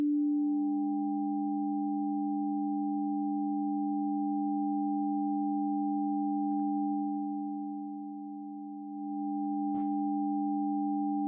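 Steady electronic sine tone with a faint warbling amplitude modulation, made in Pure Data, holding for several seconds, briefly dipping in level near the end, with a small click.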